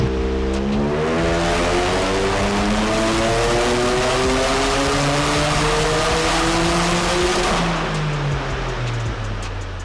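A Toyota GR Corolla strapped to a dyno revs hard through a full pull, the engine note climbing steadily in pitch for several seconds, loud and close, then easing off at the end.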